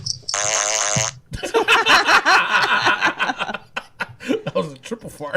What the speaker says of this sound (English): That was a triple fart.